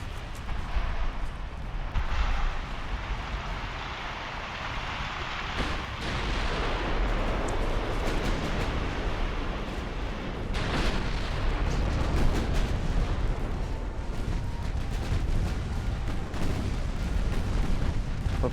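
Continuous dense rumble of naval artillery fire and explosions during an early battleship battle with 1890-era hulls in Ultimate Admiral: Dreadnoughts, including a ship's magazine detonating; heavy, sustained booms layered without pause, with no voices.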